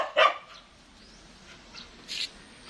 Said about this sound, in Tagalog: ang ingay ng aso ko